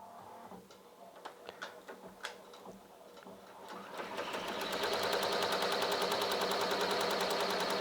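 A Ricoma MT-1501 embroidery machine begins stitching out its first design, starting with scattered mechanical clicks and then rising into a fast, steady, loud rattling hum of rapid needle strokes up close.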